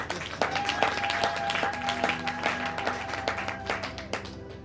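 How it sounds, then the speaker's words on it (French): A church congregation claps loudly and steadily together, dense sustained applause over a held musical tone. "Acclame d'abord très fort."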